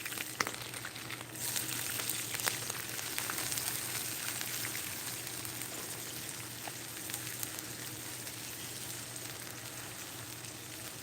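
Canned chicken roasts in hot frying oil that still holds some water, giving a steady, crackling sizzle with scattered pops, close and uninterrupted, with no talking.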